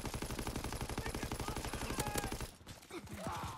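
Rapid automatic gunfire in Call of Duty WW2, a long, fast, evenly spaced burst up close that stops abruptly, followed by quieter scattered in-game sounds.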